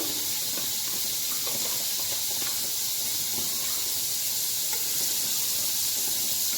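Butter melting and sizzling in a hot pan for white chicken tikka karahi, a steady, dense hiss held close and loud throughout, with faint crackles and no voices.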